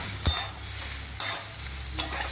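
Papaya pieces sizzle in a hot pan as a spoon stirs them, with three sharp scraping strokes against a steady low fry.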